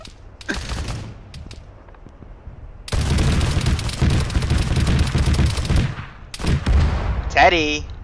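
Arma video game combat with artillery and gunfire: a long, loud stretch of dense rolling fire and blasts, broken by sharper bursts, with players talking over it.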